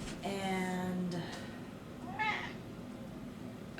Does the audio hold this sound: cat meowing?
yes